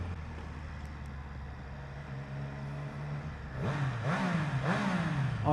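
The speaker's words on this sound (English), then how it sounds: "Oh, I love the sound of this bike" A 2021 Triumph Street Triple RS motorcycle engine idles low and steady, then blips into a few sharp, rising revs near the end, close and fairly loud.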